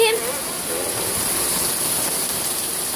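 Hard rain pours steadily in a heavy rainstorm, a loud, constant close hiss that fills the whole clip, with a voice heard briefly at the start.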